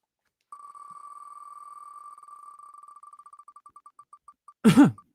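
A single loud, harsh cough bursts out at the end, after a steady electronic tone that breaks into slowing, fading beeps.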